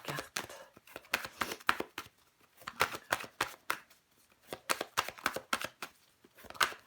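Tarot cards shuffled and drawn by hand, a close, quiet run of rapid riffling flicks and soft slaps in uneven bursts, with no talk over them.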